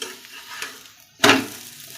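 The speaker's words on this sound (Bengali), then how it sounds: "চলো পরোটাগুলো ভেজে নিই" Parathas frying in a pan, a quiet sizzle with a soft stir near the start, then a sudden loud burst of sizzling at about the midpoint that fades slowly back down.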